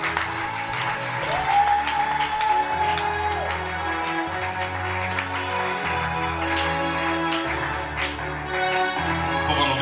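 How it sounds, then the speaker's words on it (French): A church congregation applauds during a praise service for Jesus, with steady clapping mixed into loud keyboard and bass music that plays throughout. "acclame très fortement pour la gloire de notre Seigneur Jésus"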